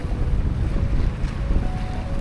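A sailboat running fast under a reefed main and reefed genoa, with steady rushing water and wind noise buffeting the microphone, close and continuous with no talk.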